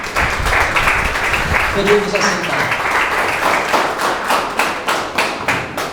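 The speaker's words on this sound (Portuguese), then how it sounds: "Palmas para Jesus." A church congregation claps together, building into a steady rhythmic clapping that fills the room, while a voice speaks briefly over it.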